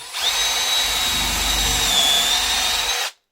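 A power drill with a countersink bit bores into a workpiece for about three seconds, a steady loud whine with a high tone that drifts in pitch, then stops abruptly.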